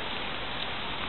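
Steady rain falling outdoors during a frontenis game played in wet conditions, a dense, even hiss of drops on the court surface with no talk, continuous across the short moment.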